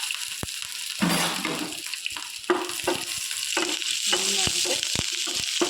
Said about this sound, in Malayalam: ഇനി കുറച്ച് വറ്റൽമുളകും ആഡ് ചെയ്ത് കൊടുക്കാം. പിന്നെ കുറച്ച് കറിവേപ്പിലയും കൂടി ഇട്ട് കൊടുക്കാം.